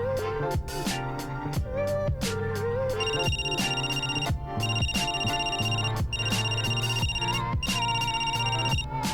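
A bright electronic ringtone plays loudly and continuously, a repeating melodic pattern with a steady beat, no voices over it.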